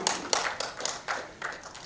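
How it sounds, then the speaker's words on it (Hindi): Audience at a celebrity tribute event for Dr APJ Abdul Kalam clapping in rhythm along to a song, several sharp, evenly spaced claps close and fairly loud, with no voices. "आप लोगों को थोड़ा सा तालियां देना पड़ेगा"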